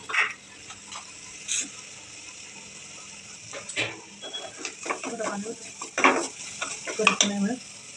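Spiced soybean curry sautéing in a pan with a spoon scraping and stirring, soft sizzle under repeated clinks of metal on the pot, moderately close, with brief talk in the background.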